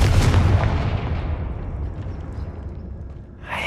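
A Confringo blasting spell in the Hogwarts Legacy video game detonates in a loud, close boom that rolls off into a fading rumble over a few seconds.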